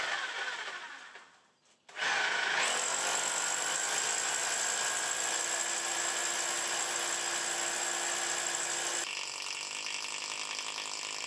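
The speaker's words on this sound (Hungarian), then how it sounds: "majd jöhetett a fúró" After a brief quiet dip, a power drill starts up and whines continuously at high pitch for several seconds, close by, drilling into a house wall, then its tone shifts near the end.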